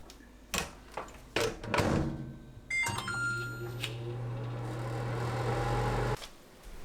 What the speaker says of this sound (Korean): 전자레인지 4분 익힙니다.